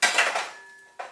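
A metal frying pan is handled on a stove, giving a bright clanking hit that rings and fades, followed by a second short knock about a second later.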